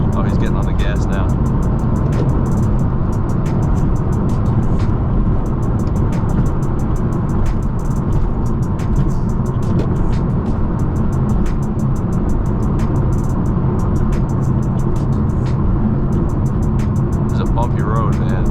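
A car engine roars in traffic as the driver of a BMW M6 steps on the gas. The sound is a constant, loud, low-heavy drone with rapid ticking or rattling throughout, heard from inside the moving car.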